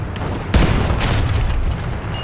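A deep booming blast erupts suddenly, followed by a second rumbling boom and a fading roar, like heavy cannon fire, from cannons in the video game Age of Empires 3.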